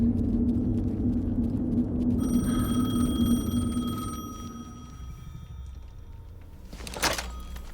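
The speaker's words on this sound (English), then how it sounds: "The phone again." Telephone ringing in the video game Alan Wake 2: a steady electronic ring tone with sustained bright tones holds over a low rumbling ambience, then fades out, leaving a brief louder burst near the end.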